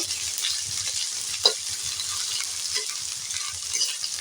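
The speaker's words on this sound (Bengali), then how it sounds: "রসুনটা আমি দিয়ে আবারও খানিক্ষণ নাড়াচাড়া করে নেবো" Onion and garlic paste sizzles steadily in a hot pan while being stirred, with soft scraping and occasional sharper clicks of the spoon over a constant frying hiss and no voices.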